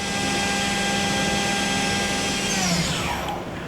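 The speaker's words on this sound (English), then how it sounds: "that was a tool change or simulated tool change" A Mori-Seiki four-axis vertical machining center with a 40-taper spindle runs a tool change, giving a steady loud mechanical whine and hum with a rising, sweeping tone near the end that settles quickly.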